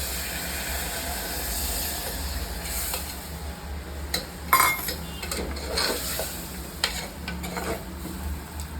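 Water poured into a hot pan of frying Gujarati potato curry sizzles and hisses steadily, with scattered clinks and scraping of a utensil against the pot, close and continuous without talk.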